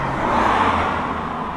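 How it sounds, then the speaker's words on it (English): Cars rushing past on a busy road, a loud continuous swell of tyre and engine noise close by, with no talking. "I'm on a very busy road and there's like cars going past"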